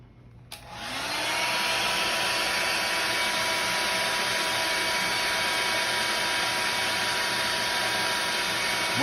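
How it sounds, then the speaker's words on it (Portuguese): A handheld hair dryer switches on near the start and blows steadily at full power, a loud, continuous broadband whoosh with a motor whine, used to heat an industrial machine's temperature sensor, with no talking. "Eu vou usar aqui um secador"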